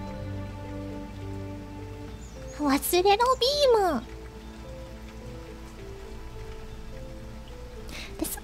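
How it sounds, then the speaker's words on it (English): Video game rain falls steadily as a soft, even hiss, while a person talks briefly over it partway through. "Oh, it's raining."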